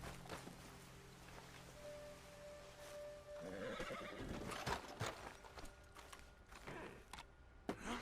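A horse in a video game whinnies loudly, then a run of hoof clip-clops and creaking follows, with scattered thuds toward the end and no speech.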